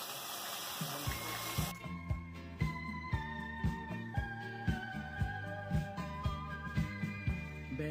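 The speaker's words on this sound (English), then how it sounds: "Having to add water" Water splashes into a Palauan korokke mix in a short, close pour that lasts under two seconds before rhythmic background music takes over.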